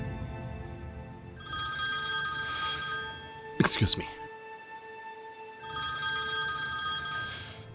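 A telephone rings in two long electronic bursts separated by a short pause, with a brief sharp clatter between them and a voice speaking briefly.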